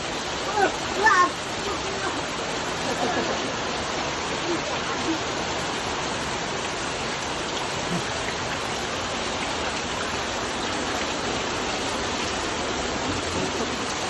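Steady, loud rush of floodwater pouring through a street, a broad continuous roar filling the whole scene, with a few faint splashes early on.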